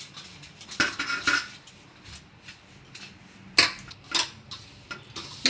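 Wheat dough being worked by hand with about three spoons of pure ghee in a bowl for crisp thekua, giving soft irregular scraping and clinking bowl sounds with a few sharper knocks, close and without speech.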